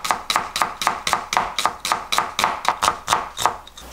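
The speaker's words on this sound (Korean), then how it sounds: "요것도 아주 얇게 채 썰어줄게요" A knife thinly julienning half a medium onion on a cutting board, about fourteen quick, even chops in a steady rhythm, close and crisp with no talking.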